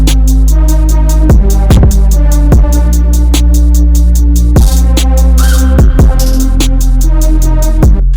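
A loud synth melody plays over a steady beat, some notes swelling brighter as a filter cutoff slowly opens while others stay open, punctuated by regular percussive hits.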